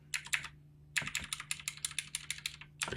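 Rapid clacking keystrokes on a computer keyboard come in two bursts separated by a short pause, close and fairly crisp, with no voices.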